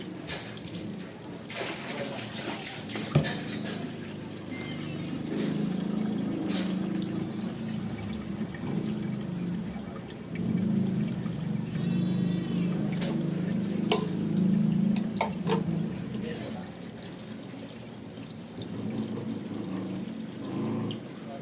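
Water is poured and splashed over a dog during a bath, running and trickling steadily for about twenty seconds with occasional louder gushes and faint handling noises.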